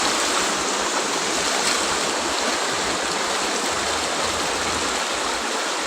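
Floodwater from the Xe Bang Fai river pours through the middle of a village in Khammouane, Laos, a steady, loud rushing wash of flowing water with no pauses, close by and unbroken by voices.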